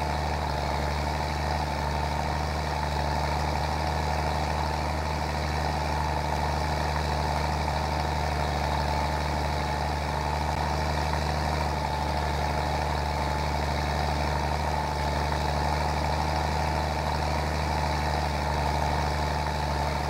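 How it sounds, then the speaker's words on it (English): A tractor engine in Farming Simulator 22 drones steadily under load, a constant, heavy low rumble with a broad even hum and no break for the whole stretch, with no one talking. "See, the tractor doesn't do too bad once it gets going"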